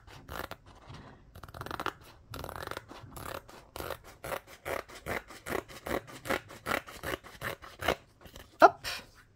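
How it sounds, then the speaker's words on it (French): Scissors cutting a diamond painting canvas along its fold, a rapid series of crisp, close snips in a steady rhythm, with a few short scratchy pauses between runs. "je vais découper où est-ce que c'est plié"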